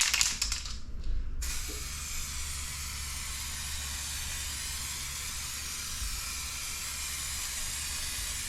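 A spray gun lays a heavier final coat onto a Lexus SC 430 headlight during a refurb, giving a steady, close, unbroken hiss that runs throughout after a brief sputter at the start.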